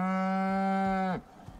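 A cow in the survival video game Icarus lets out a long, loud, steady moo lasting over a second, then cuts off abruptly, leaving faint background ambience.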